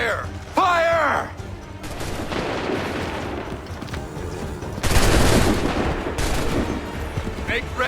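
Musket volleys crack out in a Bunker Hill battle in Assassin's Creed III, loud bursts of massed gunfire with rumbling echoes, one near volley early and another heavy burst midway, amid shouted commands and battle noise.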